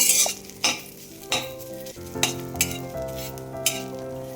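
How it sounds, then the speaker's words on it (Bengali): Fresh drumstick leaves being dry-roasted in a dry wok to cook off their water, with repeated scraping stirs and clinks of a utensil over a faint sizzle, close and alone without talk. "শুকনো কড়াইতে এগুলোকে দিয়ে একটু জলটা মরিয়ে নেব"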